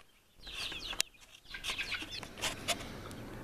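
A small rooster clucks repeatedly in a backyard bird collection, a series of near, moderately loud clucks and chirpy calls with a brief sharp knock early on.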